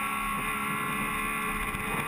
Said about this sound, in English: You can hear that strange downshift he's got.